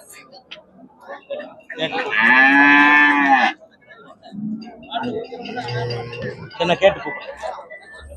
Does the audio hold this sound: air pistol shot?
no